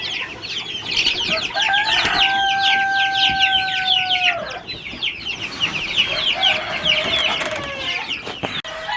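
Chickens and small chicks cluck and peep nonstop in a close coop, with high chirping chatter over a brief sustained crowing call from an older bird.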